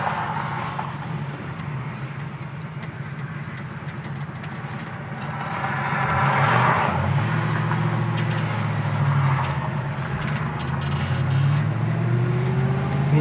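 A car drives past on the road, its noise swelling from about six seconds and staying fairly loud to the end, heard over steady low engine rumble from a nearby classic 1967 Mustang GT S-Code 390.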